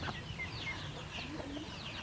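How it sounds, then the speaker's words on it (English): Young ducks in a backyard give soft, small calls, with a few brief chirps and quacks scattered over quiet outdoor background. "I love looking out and seeing all these sweet little ducks hanging out in the yard and hearing the little noises"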